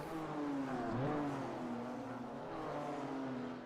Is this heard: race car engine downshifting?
yes